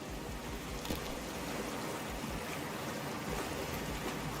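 Cold water in Cyberpunk 2077 at the start of a dive gives off a steady, close wash of bubbling and sloshing that runs for the whole stretch with no talk over it.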